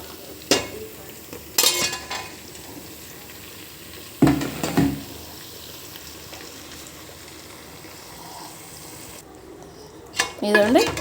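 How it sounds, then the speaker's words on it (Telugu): Chicken pieces frying in hot oil with turmeric for a Telugu-style gongura chicken biryani, a steady soft sizzle with a few louder stirring and pan clatters near the start, middle and end. "చికెన్ వేసేసా కదా ఇది బాగా నూనెలో మగ్గనివ్వాలండి"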